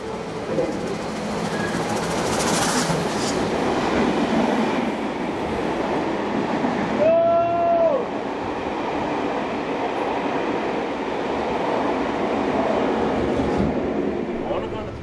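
A train led by locomotive 4201 rolls past in New South Wales with a loud continuous rumble and rattle, a brief wheel squeal rising in the middle, and people talking over it.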